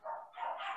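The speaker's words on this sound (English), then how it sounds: "I'm sorry if you hear the dogs barking in the background" A dog barks and yips in one short, whining, drawn-out bark, faint and somewhat distant, in a house, with no talking.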